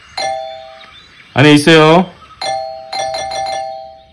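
A doorbell chimes several times in the video game Do Not Disturb, with single tones and then a quick run of rings, mixed with a loud cartoonish voice burst and a person speaking briefly.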